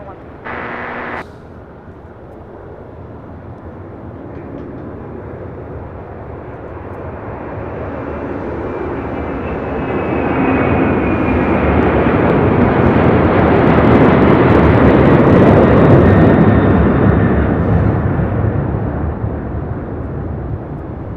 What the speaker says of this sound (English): we do have an MD-11 rolling down to 5 left